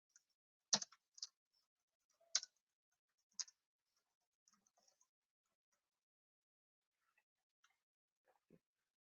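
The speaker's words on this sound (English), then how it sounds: "Currently I am typing it." A git commit message is tapped out on a computer keyboard, producing a few sparse, crisp keystrokes with long pauses between them, faint and close in an otherwise quiet room.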